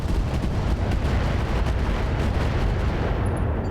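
Mech weapons firing at a Rommel tank in RogueTech, a dense, continuous roar of heavy cannon and missile fire with rapid overlapping blasts, loud and close throughout.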